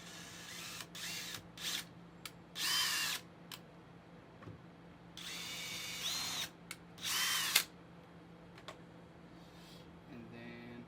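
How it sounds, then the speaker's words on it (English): A power drill boring into the bumper of a 2016 Camaro RS in short, close, whining bursts separated by pauses, fairly quiet overall. "from there you're gonna drill into your bumper"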